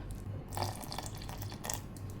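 Cold water pours into a wet grinder holding millet dosa batter, a continuous close splashing and trickling that runs steadily throughout with no voices.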